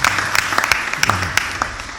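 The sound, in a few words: audience applause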